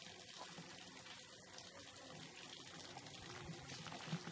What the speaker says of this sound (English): Here is a spring, a water spring.